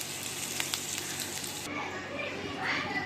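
Chicken seekh kebab pieces fry in oil in a pan for a gravy, giving a steady close sizzle that grows slightly softer and duller halfway through, with a few faint background sounds.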